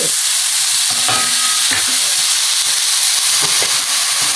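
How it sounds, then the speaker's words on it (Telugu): Spinach stirred in a frying pan, a steady loud sizzle with a few scraping strokes of a spatula against the pan. "పాలకూర వేసాక ఒకసారి ఇలా కలిపేసి"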